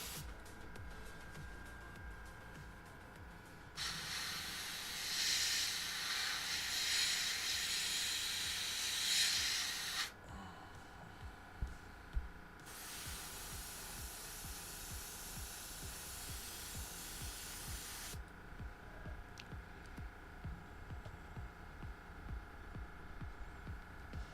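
An airbrush hisses in bursts as it sprays paint onto a Hasegawa Ma.K SF3D Camel scale model, two long close sprays separated by a pause and set against a quiet room hum.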